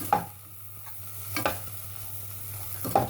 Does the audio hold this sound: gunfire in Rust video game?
no